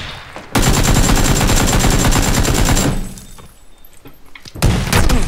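Dense bursts of rapid gunfire in the online shooter PUBG, loud and close, pounding for about two seconds. A brief quieter gap follows, then the shots resume near the end.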